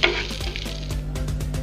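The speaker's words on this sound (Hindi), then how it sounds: "अब हम इसे खिचड़ी पे डाल देते हैं।" Hot tempering (tadka) poured over dal khichdi sets off a loud, steady sizzle and crackle of hot oil, with faint stirring clatter underneath and no voices.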